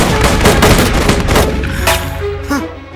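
A loud burst of rapid gunfire from a gun in a film scene, several sharp shots packed together in the first second and a half, then fading with a short tonal tail at the end.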